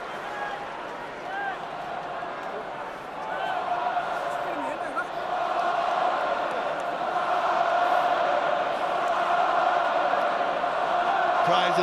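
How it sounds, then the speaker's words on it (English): A Murrayfield rugby crowd at Scotland v Ireland rises into sustained chanting and cries for Scotland, a broad roar swelling steadily louder, with a commentator talking over it throughout. "Cries of Scotland reverberate around Murrayfield"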